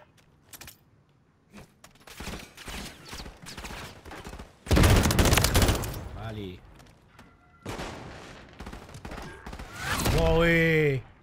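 Rifter pump-action shotgun fired in Call of Duty: Modern Warfare III on the Rust and Training Facility maps: scattered sharp blasts and a dense loud burst midway, mixed with other game effects and a rising tonal sound at the end.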